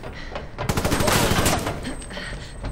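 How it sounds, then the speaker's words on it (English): A burst of rapid gunfire erupts after a quieter stretch in Resident Evil 6, several shots rattling together, then fading into background game sounds. "Oh, gunfire."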